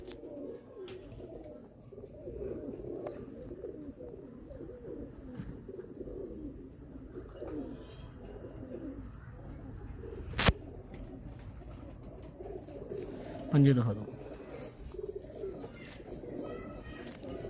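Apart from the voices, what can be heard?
pigeons cooing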